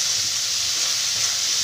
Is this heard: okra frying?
yes